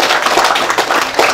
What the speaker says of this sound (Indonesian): Berikan tepuk tangan lagi.